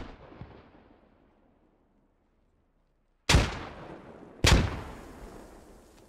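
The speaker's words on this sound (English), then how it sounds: "Frag's out on the west side right now." Two sharp, loud frag grenade blasts in the military shooter game Squad, each a sudden crack followed by a rumbling decay, about a second apart after a quiet stretch.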